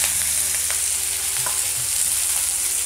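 Chopped onion and green chili fry in hot oil with a loud, steady, dense sizzle, broken by a few light stirring knocks close by.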